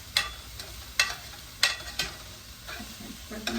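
Onions cooking in a pan for fried rice, with a few sharp stirring scrapes and a soft sizzle that rises near the end, close and fairly quiet with no talk.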